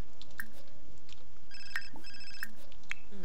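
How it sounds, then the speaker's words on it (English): A phone rings in The Sims 4, a bright electronic ringtone in short repeating tonal bursts over quiet game background, fairly loud and close, with no talk. "And his phone is ringing."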